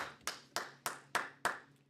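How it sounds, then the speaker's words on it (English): Five crisp hand claps at an even, steady pace during a live sports-card break show, fairly quiet and close, with no talking. "A big round of applause, ladies and gentlemen."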